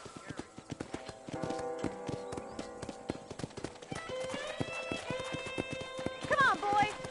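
Steady clip-clop of a horse's hooves while riding in Red Dead Redemption, a brisk regular rhythm close by, with a whinny near the end and talk over the hoofbeats.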